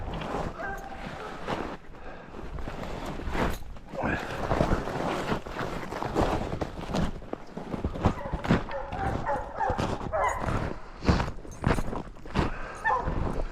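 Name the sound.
hunting dogs barking at a shot coyote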